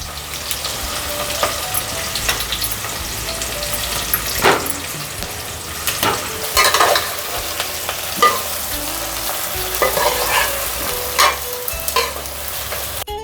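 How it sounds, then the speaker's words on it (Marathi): Eggplant with hing, turmeric and masala sautéing in a hot pan, a steady close sizzle with periodic scrapes and stirring clinks as the pieces are tossed, continuous and fairly loud without talking. "आता हे वांगे पण असे लगेच टाकू, म्हणजे परतल्या जातात."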